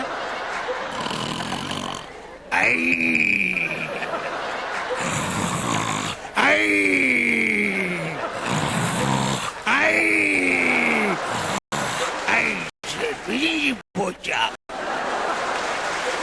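A voice imitates loud snoring: several long, rattling snore-like inhales and growly exhales repeated in a slow rhythm, close and strong.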